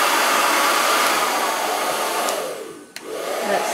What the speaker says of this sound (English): Put it on the low for a minute.